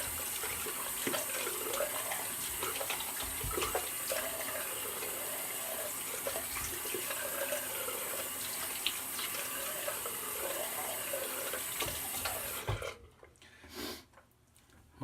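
Water runs steadily from a tap, rinsing soap off, a continuous close splashing gush that stops abruptly near the end, followed by a few faint drips and handling noises.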